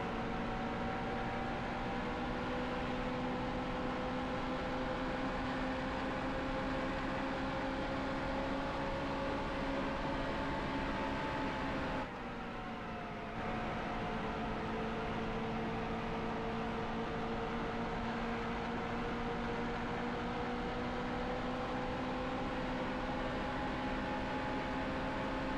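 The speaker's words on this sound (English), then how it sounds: "It sounds like the car is almost turned into a race car, but not quite." A race car engine in the NASCAR Heat Evolution video game drones at a steady high whine with a brief dip midway, continuous and even throughout.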